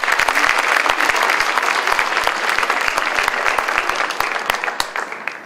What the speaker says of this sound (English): Keisha and Ethan, give them a round of applause.